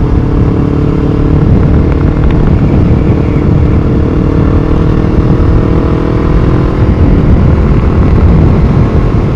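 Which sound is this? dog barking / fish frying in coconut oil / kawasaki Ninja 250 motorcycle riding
kawasaki Ninja 250 motorcycle riding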